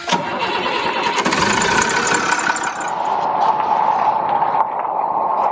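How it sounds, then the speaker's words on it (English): A car engine is started during a cooling system repair with a stand-alone transmission cooler, then keeps running with a steady, loud, close mechanical roar throughout, with no talk over it. "So I'm gonna start the engine"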